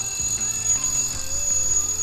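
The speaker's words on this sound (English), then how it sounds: "The timer rings." Timer alarm ringing in the railway-building video game Train Fever, a steady electronic bell-like ring holding for about two seconds at a constant level, with no talking over it.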